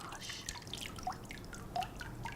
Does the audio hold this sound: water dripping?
yes